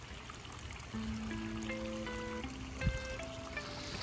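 A backyard pond waterfall pours water in a soft, steady rush, with a faint trickle heard throughout at low level.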